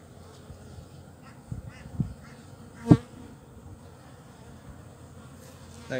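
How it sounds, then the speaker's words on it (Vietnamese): Honeybees hum around a newly hatched queen crawling over the comb after leaving her queen cell. A soft, steady drone runs throughout, broken by one sharp knock near the middle. "Đây ong chúa đây."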